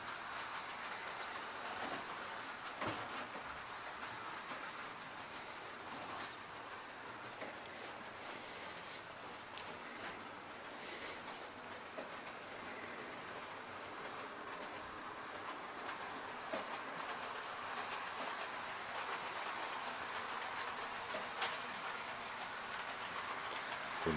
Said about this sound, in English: The most magical village train set ever.